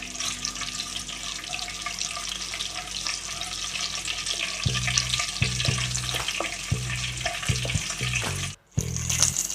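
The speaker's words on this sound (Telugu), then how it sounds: "ఇట్లా వేగిన దాకా కలిపిస్తాం" Ingredients for a prawn curry fry in a pan with a constant sizzling hiss, joined midway by a run of rhythmic scraping and tapping strokes from stirring, close by and without speech.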